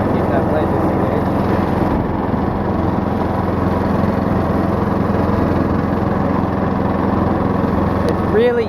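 Old riding lawnmower engine running steadily while driving in fifth gear with the blade disengaged, a close constant buzzing drone under people talking.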